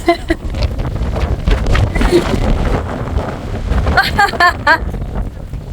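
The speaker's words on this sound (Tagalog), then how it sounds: "Malakas ang hangin sa likod." Strong wind buffets the microphone with heavy low rumbling gusts while people talk nearby, behind the Tian Tan Buddha in Hong Kong.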